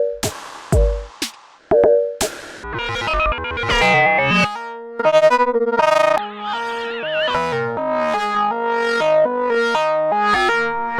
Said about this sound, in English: The 102 is a ring modulator.